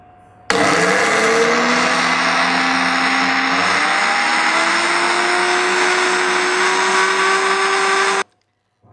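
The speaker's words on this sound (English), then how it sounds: "I decided to clean up my blender and grind up some grated coconut" A kitchen blender grinds grated coconut into fine flakes, a loud, steady motor whine starting abruptly, its pitch slowly rising over about eight seconds before cutting off.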